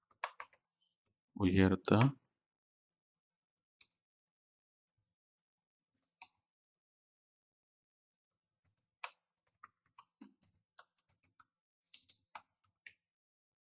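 Computer keyboard typing in scattered bursts of light clicks, with a brief voice near the start and long quiet gaps between keystroke runs.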